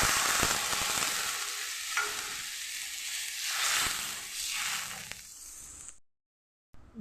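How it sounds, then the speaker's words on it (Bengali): Water poured into sizzling spiced oil in a pan for a Bengali air fish curry hisses and crackles loudly and close, bubbling for several seconds before abruptly going silent. "এখন জল দিয়ে দিচ্ছি।"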